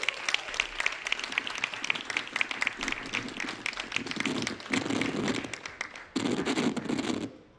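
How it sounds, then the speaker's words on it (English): Conference audience applauding to welcome a speaker at a talk on the European Union in the Asia-Pacific, dense sustained clapping from a crowd that swells and carries on for several seconds before tapering off. "So please give a huge round of applause"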